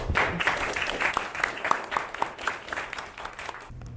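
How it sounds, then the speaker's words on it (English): A crowd at a Toastmasters speech meeting applauds steadily, many hands clapping at once in a sustained, moderately loud burst. "Please give her a big round of applause."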